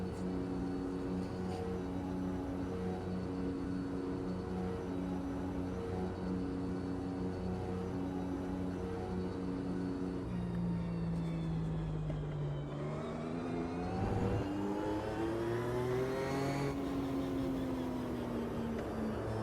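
Ginetta G55 GT4 race car at Interlagos in the Automobilista 2 video game, a continuous engine drone with a high, shifting transmission whine that rises and falls with speed, steady and prominent throughout with no talk.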